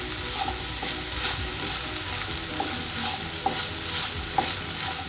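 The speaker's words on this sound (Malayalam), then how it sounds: "എന്നിട്ട് ഇത് നമുക്ക് നന്നായി മിക്സ് ചെയ്തെടുക്കാം." Finely chopped green capsicum stirred into softened onions in a pan for shakshuka, a steady sizzle with repeated scraping strokes of the spoon, close and continuous without any voice.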